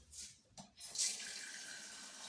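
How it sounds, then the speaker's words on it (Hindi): Water pours from a tap into a cooking pot holding small chicken pieces and stock, a steady hiss of running water after a few brief clatters, close and moderately quiet. "इसमें थोड़ा सा पानी और डाल देती हूँ।"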